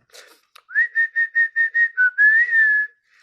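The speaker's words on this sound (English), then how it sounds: "I'll get my whistling a bit better." A person whistles a short tune alone: about eight quick, even notes followed by a longer sliding phrase, clear and close.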